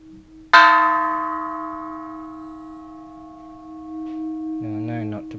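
A Japanese Buddhist temple bell is struck once, loud and close, then hums on in a long, slowly fading reverberant tone, with a person starting to talk near the end.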